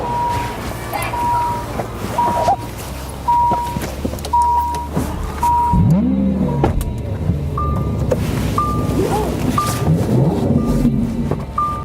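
A Lamborghini sports car engine growls and revs as it drives off across a parking lot, while repeated short electronic beeps chime in the background.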